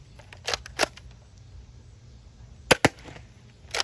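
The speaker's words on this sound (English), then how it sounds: "I'm going to shoot these not looking through the camera lens" A Dart Zone Pro MK2.1 foam dart blaster fires five sharp, snappy shots, grouped as two, then a quick pair, then one more, each a short crack over a quiet background.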